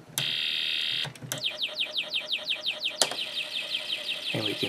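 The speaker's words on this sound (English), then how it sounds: "Use the switch, we hear our machine gun sound effect." Snap Circuits space war IC sound module producing a machine gun effect, rapid repeating electronic chirps in a steady burst after a brief high tone, close and moderately loud with no talk.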